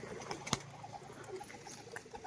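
Fancy flying pigeons kept for sale give soft, faint cooing and rustling in a quiet room, with a brief sharp flutter or tap near the start and no talking.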